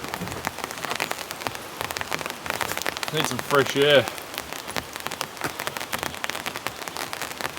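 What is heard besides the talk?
heavy rain falling outside a rustic cabin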